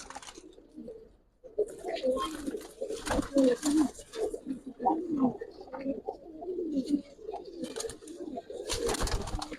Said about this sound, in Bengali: প্রত্যেকটা কবুতর এখানে টোটাল আপনার লাল পাত্তি কবুতর আছে নয় পিস